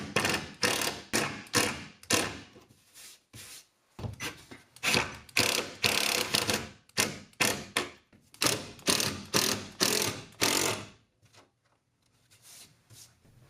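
A power driver sinks a screw into a wall stud to fix a wooden cabinet cleat, giving repeated short whirring and ratcheting bursts with brief pauses between them, close up.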